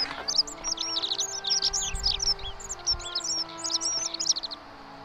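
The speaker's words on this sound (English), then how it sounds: "I hear birds, but I don't see them." Several birds chirp and tweet in a steady, busy chorus of short overlapping calls against a soft ambient hum, in the video game The Forgotten City.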